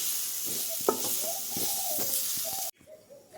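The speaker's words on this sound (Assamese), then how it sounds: "নাৰিকল এয়া ধুনীয়াকৈ ৰুকি ল'লোঁ আৰু এইখিনি এতিয়া মই অকণমান ভাজি ল'ম" Grated coconut fries in a pan with a steady, crisp sizzle, broken by soft scraping as it is stirred, before it suddenly drops much quieter near the end.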